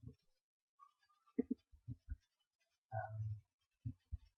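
Keys tapped on a computer keyboard while a spreadsheet formula for skewness is entered, heard as sparse, close clicks in short irregular bursts with a longer run of strokes midway, in a quiet room.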